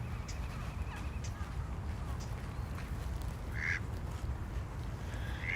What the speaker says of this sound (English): there's lots of ducks